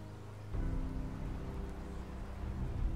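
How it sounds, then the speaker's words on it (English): Steady rain falling outdoors on a New York day, a dense, constant wash of noise that swells in a short way in and stays even throughout. "it's typical New York, so it's raining outside."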